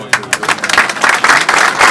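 Applause at a mayoral handover ceremony in Buca, sounding as bursts of hand clapping that build into a steady, close clatter over two seconds.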